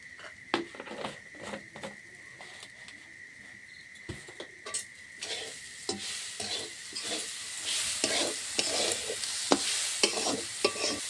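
Grated coconut and sugar fry in a pan, with a steady sizzle under repeated scraping strokes of a spatula. The stirring grows busier and louder toward the end, in a village kitchen with no talk.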